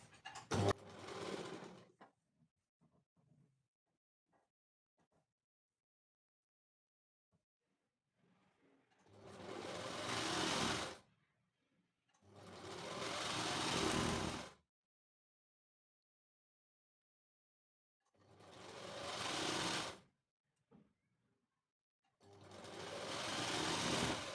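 A sewing machine stitches the front and back panels of a kurti together in four loud, close bursts of a few seconds each, separated by near silence and small handling clicks.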